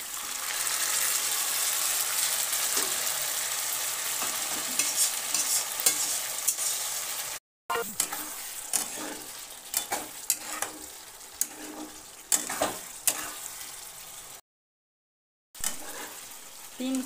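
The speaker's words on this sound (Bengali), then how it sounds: "এবার এতে কষাই করে রেখেছি চিকেনটা দিয়ে দিলাম।" Pre-cooked chicken for Murgh Patila is added to a hot pot and stirred, giving a steady close sizzle and frying crackle with scraping stir strokes and clinks throughout.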